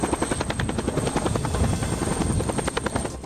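Military helicopter at a war exercise at Minot Air Force Base in North Dakota, its rotor thumping in a rapid steady chop with a loud whining engine drone, close and continuous throughout.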